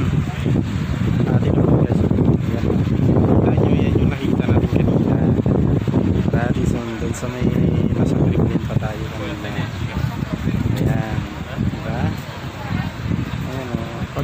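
Strong gusty wind buffets the microphone in Gorky Park, Moscow, a dense continuous roar lasting throughout, with a person talking over it.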